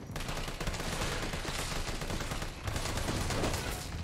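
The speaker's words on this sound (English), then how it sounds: "Let's shoot him in the butthole." Rapid bursts of video game gunfire rattle continuously, loud and dense, with a short dip midway before the shooting resumes.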